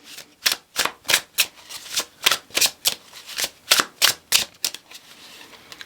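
Tarot cards riffle-shuffled in a steady run of about a dozen crisp, close bursts, each a sharp papery flutter with a short gap between, alone with no voices.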